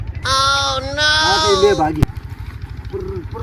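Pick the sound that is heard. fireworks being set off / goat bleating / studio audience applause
goat bleating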